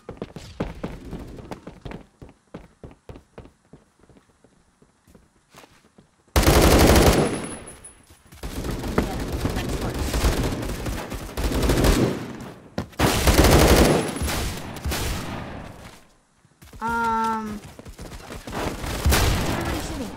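Rapid automatic gunfire in the video game Phantom Forces, with bursts of clattering shots, then loud sustained firing, several separate bursts, and brief sharp tones near the end.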